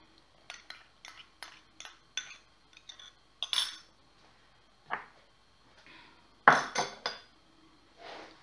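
A spoon clinks and scrapes against a bowl while stirring a dough mixture of milk and ammonium bicarbonate for savory whole-wheat pastry cups, with a quiet rhythmic series of taps followed by a few louder knocks.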